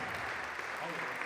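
Audience applause at a senior music recital, a dense steady patter of clapping from a crowd, brief and continuous with voices mixed in.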